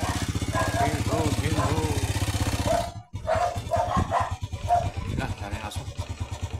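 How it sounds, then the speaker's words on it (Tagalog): Dogs bark repeatedly in a street, close and sharp, over the steady drone of a motorcycle engine that cuts out briefly before the barking continues in quick bursts. "Dami aso."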